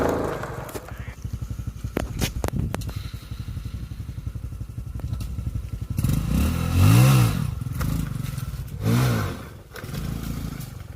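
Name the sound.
Honda XRM 125 Fi motorcycle engine revving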